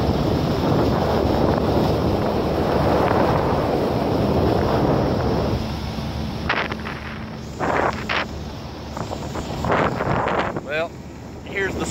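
Fishing boat on a river in Arkansas runs with heavy wind buffeting and engine and water rush for several seconds, then quiets to a lower hum broken by bursts of splashing and knocks.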